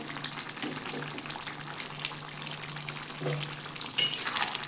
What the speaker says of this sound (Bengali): দিয়ে একটু নাড়িয়ে দিচ্ছি